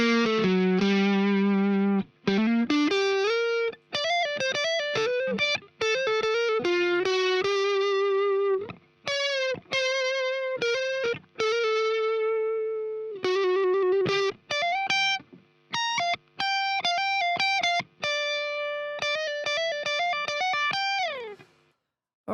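Distorted lead guitar run through a compressor, playing aggressive sustained notes, bends and quick staccato phrases with brief gaps between them, loud and upfront with no talking.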